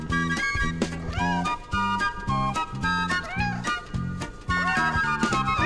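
Kitten-like meows sweep up and down over a bouncy, rhythmic musical backing, several cries repeating throughout.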